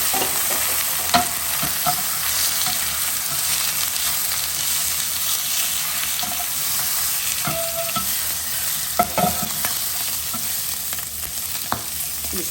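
Peppers char in a pan over high heat, a steady bright sizzle and crackle with occasional pops and stirring scrapes, close and continuous.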